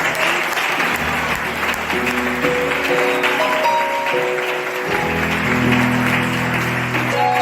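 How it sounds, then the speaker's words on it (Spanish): A church congregation applauds together in a sustained, loud burst of clapping that fills the hall, with sustained tones, likely organ or keyboard, running underneath throughout. "toda la iglesia le damos un fuerte aplauso"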